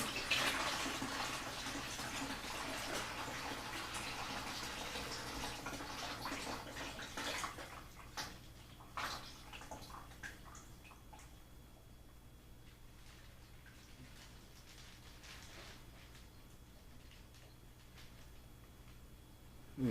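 Water gurgles and splashes loudly as it is poured from a bag into a home aquarium along with cherry barb fish, then tapers into softer trickles and occasional drips.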